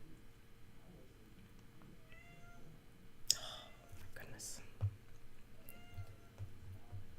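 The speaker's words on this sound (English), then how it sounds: "I hope you guys can't hear my cat yelling." A house cat yells indoors with a few faint, drawn-out meows over a quiet room background, partly distant and muffled.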